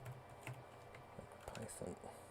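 Quick bursts of keystrokes on a computer keyboard, soft clicky taps in an irregular rhythm, fairly faint and close, with a voice talking over them.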